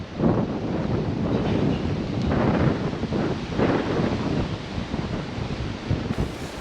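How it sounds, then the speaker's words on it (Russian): Strong cold wind roaring steadily against the microphone, a dense close rumble with swelling gusts and no voices. "Да, ребята, ветер усиливается."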